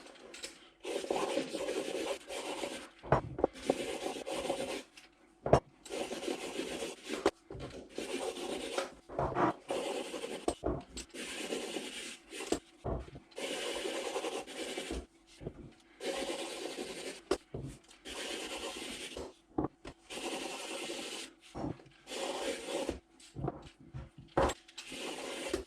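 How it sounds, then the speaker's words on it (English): Repeated scraping and peeling strokes on raw carrots being cleaned for carrot and coriander soup, a close, rough rasping rhythm in short bursts throughout. "peel and clean up the carrots."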